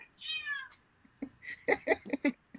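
Pet cat indoors letting out one clear rising-falling meow, followed by a quick series of short chirpy meows close by, with a little soft movement noise between them.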